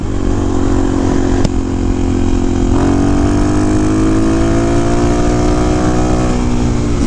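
A DRZ dirt bike engine with a massive oil leak runs loud and close, buzzing steadily, then revs up and slowly settles with a rising whine.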